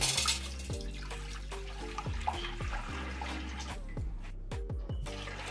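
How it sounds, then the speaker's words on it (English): Water splashes and gurgles steadily into a cast iron Dutch oven, a continuous close pour with a few clinks and bubbling bursts throughout. "now I'm gonna be adding the water to boil"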